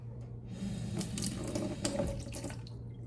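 Ordinary tap water runs steadily into a cup or sink during home cooking, a close, continuous hiss and splash with slight changes in flow and no talking.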